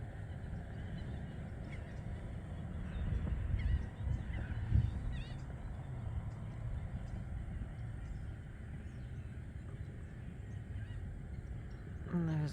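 Geese honk several times at a distance near the shore, with a few faint calls over constant wind and rumbling background noise.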